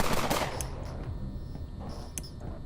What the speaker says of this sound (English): We can shoot at the monsters by pressing the left mouse button.